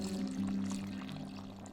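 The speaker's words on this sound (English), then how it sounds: "Now we're going to add 700ml, which is about 3 cups of beef stock." Beef stock poured into a pot of Scottish beef stew, a steady liquid stream with a low gurgling tone lasting nearly two seconds, close and moderately quiet, with no talking.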